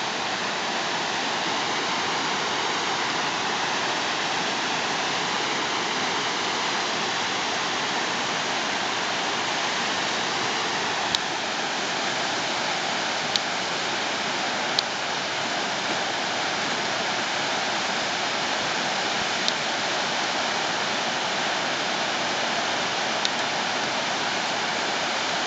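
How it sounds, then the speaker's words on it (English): A waterfall in New Hampshire's Great North Woods running heavy with water, a loud, steady roaring rush that continues unbroken, with a few faint clicks and no voices. "Right now there's a lot of water coming down."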